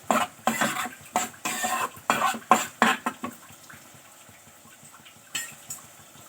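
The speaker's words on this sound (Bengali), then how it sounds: "এই মশলাটা আদা, পেঁয়াজ, রসুন, টমেটোর পেস্টটাকে আমি তেজপাতা আর শুকনো লঙ্কা দিয়ে তেলের মধ্যে ভালো করে নাড়াচাড়া করবো।" A thick ginger, onion, garlic and tomato paste with bay leaf and dried chilli is stirred in hot oil, a spoon scraping the pan in quick rhythmic strokes over a low sizzle, loud at first and then fading to quieter scrapes.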